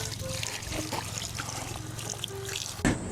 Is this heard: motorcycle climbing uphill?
no